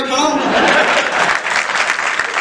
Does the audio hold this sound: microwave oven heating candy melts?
no